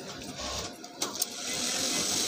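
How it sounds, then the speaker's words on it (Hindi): A Siruba overlock sewing machine runs with a steady mechanical whir, brief sharp clicks breaking in midway before the hum settles and continues close and fairly quiet. "चेक करने के बाद ही चलाते हैं इसको, सिलाई निकालते हैं इसका"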